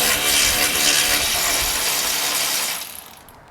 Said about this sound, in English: an electronic ratchet and a T45 Torx socket